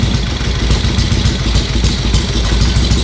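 Vintage Harley-Davidson engine idling close up, a steady loud low-pitched clattering chug that holds at a fairly even pace throughout, with no talk over it.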